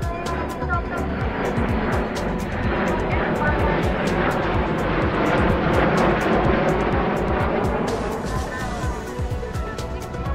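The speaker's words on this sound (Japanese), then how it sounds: "続いては航空自衛隊 F-2 戦闘機です。" A Japan Air Self-Defense Force F-2 fighter jet passes at a naval fleet review, its roaring engine holding steady and loud for several seconds, with a voice speaking over it.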